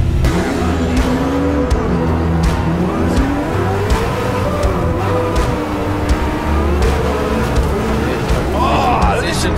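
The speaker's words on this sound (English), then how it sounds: "Oh, listen to the clutch kick of Dave Egan." 600bhp Corvette C6 drift car at a track event, engine screaming and revving hard with sharp clutch-kick surges and tire squeal, loud and continuous while a commentator talks over it.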